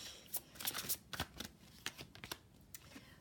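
Oracle cards are shuffled by hand in a series of soft, quick riffling and slapping bursts, irregular and close, fairly quiet with no talk.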